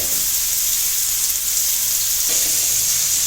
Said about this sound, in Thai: ใส่กุนเชียงที่หั่นเอาไว้นะฮะ ใส่ลงไปเลยนะครับ